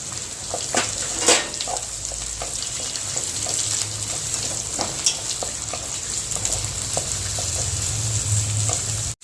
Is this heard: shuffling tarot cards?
no